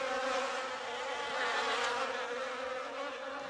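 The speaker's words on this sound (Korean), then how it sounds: "윙 귀를 어지럽히는 소리들. 파리, 날파리." Swarming flies buzz as a sound effect in a radio horror drama, a dense, close, continuous drone that stays loud throughout, heard alone.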